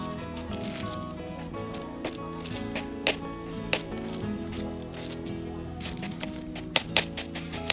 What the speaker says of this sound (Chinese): 我把它切成方形，就可以很快。